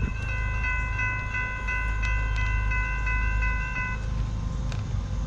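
A CSX freight train rolls past with a steady low rumble while its multi-tone horn sounds repeatedly in held blasts, then the horn cuts off and the rumble continues.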